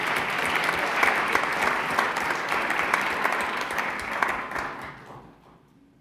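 Sustained applause from an audience at a school spelling bee, honoring the school-based winners; steady dense clapping that fades out over the last second.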